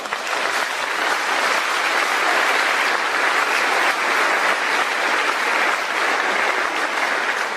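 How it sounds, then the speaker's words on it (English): A loud, sustained round of applause fills a high school graduation ceremony, dense and even from start to finish with no talk over it. "Let's give Mr. Casalava and everyone else, a round of applause."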